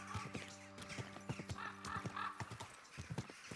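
Horse hooves clip-clopping in a video game, a steady rhythmic trot of sharp close hoof hits with a brief whinny, over faint background music.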